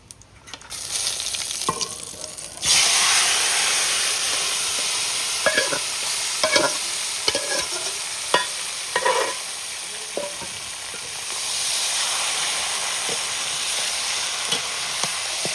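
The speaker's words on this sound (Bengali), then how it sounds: "তেল গরম হয়ে গেছে, আমি জিরে দিয়ে দেবো, তেজপাতা দিয়ে দেবো, তারপরে মাছটা দিয়ে দেবো।" Fish frying in hot oil with cumin seeds and bay leaves, a steady loud sizzle that flares up after the first few seconds, with scattered spatters and clinks of a stirring utensil throughout.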